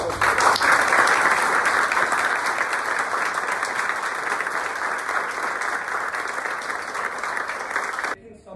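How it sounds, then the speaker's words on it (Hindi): An audience gives loud applause for successful students Pintu Varnwal of IIT BHU and Neeraj Kumar, who are visiting their teacher RK Srivastava. The clapping is dense and continuous, fades slightly, then stops abruptly at the end. "जोरदार तालियों से इन लोगों का फिर से"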